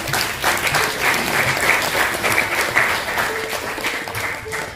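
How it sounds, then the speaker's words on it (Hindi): An audience at a children's day event held by a fine arts academy in Amritsar claps steadily in a dense, sustained burst that stays loud throughout, with faint voices mixed in. "न्मानित करें श्री सुखपाल जी को और तुहाड़ियां बहुत सारिया तालियां।"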